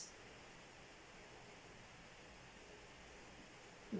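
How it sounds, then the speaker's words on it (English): Steady broadband hiss of heavy rain pouring, constant and even throughout, fairly faint, with no voices. "It's really, really pouring."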